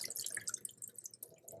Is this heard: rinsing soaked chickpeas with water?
yes